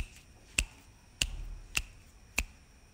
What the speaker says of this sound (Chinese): 我刚刚是打了响指是吗？